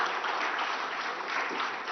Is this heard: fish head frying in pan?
no